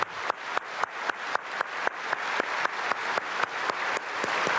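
A church congregation at a Korean dawn prayer service claps in a fairly faint, even rhythm, sharp unison beats repeating several times a second over a softer wash of hands.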